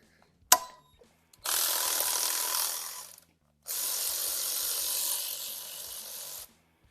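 A ratchet wrench turns 13 mm bolts on the oil pan of a Ford 5.0 HO 302 V8, one sharp click followed by two close, steady bursts of rapid clicking separated by a short pause.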